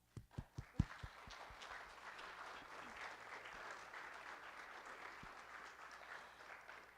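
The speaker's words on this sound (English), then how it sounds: "I want all of you guys to give them a round of applause" A church congregation applauds youth group helpers at a Youth Mission Sunday service: a few sharp opening claps swell into steady, dense clapping from the gathered audience that carries on evenly to the end.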